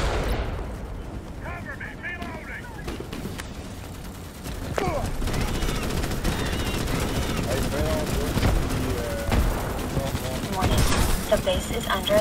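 Rapid gunfire from Starship Troopers: Extermination, dense bursts of automatic shots and heavy weapon blasts running continuously under game noise, with players talking over it throughout.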